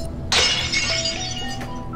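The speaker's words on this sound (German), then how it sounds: "Schlagen wir die Tür ein. Mit einem Feuerlöscher." A glass door in a video game shatters as it is struck with a fire extinguisher, giving a sudden bright crash followed by tinkling shards settling briefly, close and fairly loud with no talk.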